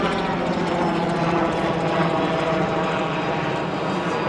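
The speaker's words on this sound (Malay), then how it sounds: "Okey, helikopter pun ada." A helicopter flies over the Garuda Wisnu Kencana area in Bali, its rotor and engine making a loud, continuous throbbing drone that fills the whole stretch without speech.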